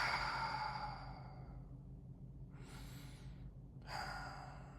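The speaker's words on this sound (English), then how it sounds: "So what I'll actually do is just take 3 deep breaths. Make sure to exhale longer than you inhale." Deep, slow breathing is close and soft, with a long airy exhale fading out, then two shorter inhale or exhale breaths after pauses, alone without talk.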